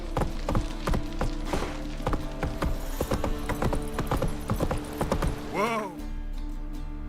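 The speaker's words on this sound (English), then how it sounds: "Run, Roach." Horse hooves galloping in the Witcher 3 video game, a steady rapid clip-clop rhythm up close with a brief whinny near the end, over game ambience.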